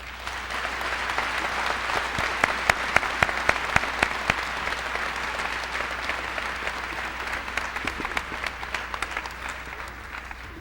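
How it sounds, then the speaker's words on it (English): A final round of audience applause at a senior academic recognition ceremony, dense steady clapping from a large seated crowd lasting about ten seconds. "Please join me in one final round of applause."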